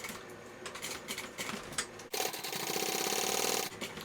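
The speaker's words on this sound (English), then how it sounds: "I'm just sewing this at that increased seam allowance" A sewing machine stitches the lining of a backpack, running in a steady rapid whirr that pauses briefly near the middle of the clip and then resumes louder and more continuous before easing off at the end.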